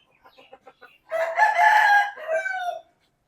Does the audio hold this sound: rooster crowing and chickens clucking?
yes